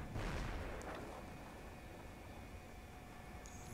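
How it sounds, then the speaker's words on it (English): Stuka rocket barrage explosions in a World War II strategy game hit with a heavy, booming blast at the start, then fade into a long rumbling wash of noise. "Stuka rocket barrage."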